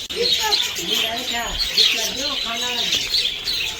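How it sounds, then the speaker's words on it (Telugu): Many lovebirds chirp continuously inside an aviary, a dense, close chatter of high twittering calls, with a voice talking over them throughout. "లోపల లవ్ బర్డ్స్ ఫుల్గా కూడా తిరుగుతూ ఉన్నాయి"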